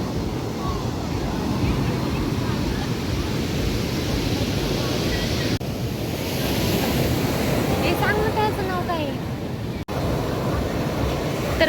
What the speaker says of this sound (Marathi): आम्ही आलेलो आहोत कॅन्डोलिम बीचवरती